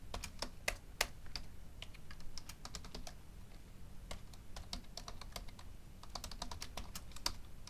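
Fast, irregular clicking of keys on a computer keyboard while code is written, close and fairly quiet, with no voices.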